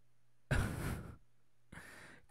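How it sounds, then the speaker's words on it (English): Heavy breaths sound in a horror video game, two distinct exhalations, the first long and loud and the second shorter and softer, with a faint low hum between them. "now I have to hear the breathing in my left ear"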